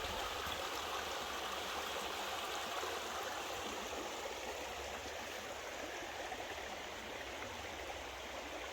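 A creek runs beside a woodland trail, its water rushing in a steady, full wash that holds even and close from start to finish with no voices over it.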